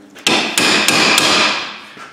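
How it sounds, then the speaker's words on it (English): Three sharp metallic strikes of a slide hammer during a Honda CR-V rear wheel bearing repair in quick succession, loud and close, each ringing out with a bright metallic tone. "we can use the slide hammer"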